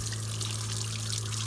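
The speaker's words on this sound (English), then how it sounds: "and here comes the hot water." Water running steadily from a tap in an off-grid setup, a constant broadband gush with a low steady hum underneath, close and continuous without pauses.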